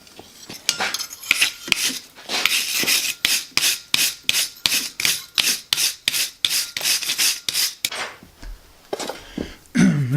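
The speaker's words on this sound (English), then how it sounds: "Now I'll go wire wheel it" A wire wheel scrubs a metal keychain in a fast run of rasping, scratchy passes, each burst rising and dropping in a steady rhythm close up, with no voices.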